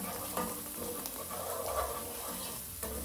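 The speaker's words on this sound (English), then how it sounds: "Then I'll use a tablespoon of salt and stir." Vegetables fry in a pan while salt is stirred in, a soft continuous sizzle with light scraping of the spoon, fairly quiet and close, with no voices.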